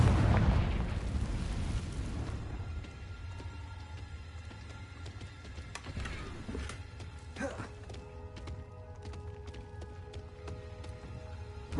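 A Confringo blasting-curse explosion in a Harry Potter video game opens with a loud, deep boom that rumbles and decays over a couple of seconds. Quieter game effects, crackles and tones follow, along with brief speech.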